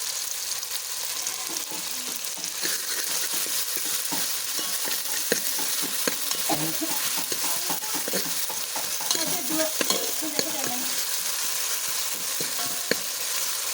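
Onions and grated masala frying in a pan, a continuous sizzle with repeated spatula scrapes and taps as the mixture is stirred, close and moderately loud with no talking.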